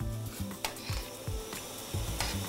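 Pasta stirred into a pot of salted boiling water, with soft scraping and clinking of a spoon against the pot over a bubbling simmer, in short repeated strokes close by.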